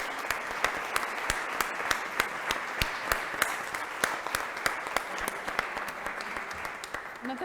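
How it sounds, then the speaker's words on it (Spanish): Audience applause for Pontevedra at a public talk on culture and public space, a moderate patter of claps with sharper individual hits, steady for several seconds at medium distance with no talk over it. "Un aplauso para Pontevedra."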